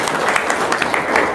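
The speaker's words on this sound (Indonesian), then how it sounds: "tepuk tangan dong, luar biasa" A short burst of indoor audience clapping at an informal gathering, loud and dense throughout with no distinct voices.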